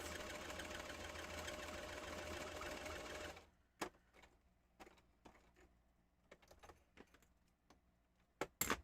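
A sewing machine stitching fabric sewn like a pillowcase runs in a steady, fast whirring burst for about three seconds, then stops, leaving quiet scattered clicks and handling taps.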